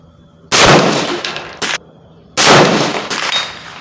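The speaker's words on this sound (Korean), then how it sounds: "총알 3발 가지고 0점 맞췄습니다" Two loud rifle reports close by on a shooting range while zeroing at 25 yards with 5.56 NATO ammunition, each a sharp broadband blast with a short ringing tail, a smaller impact-like burst between them, no talking.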